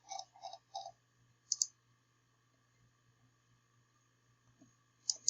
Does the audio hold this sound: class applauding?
no